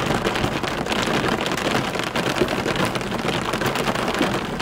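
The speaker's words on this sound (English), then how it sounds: "here comes the heavy rain" Heavy rain from a thunderstorm pours down in a steady, dense hiss with no pauses, filling the whole scene.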